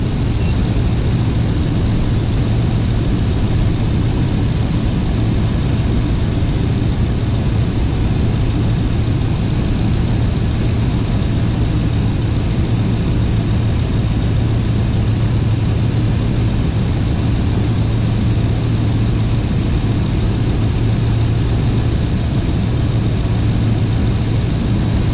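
A car engine runs at a steady idle during a battery charging test, a constant low rumbling hum that is loud and unbroken throughout with no voices.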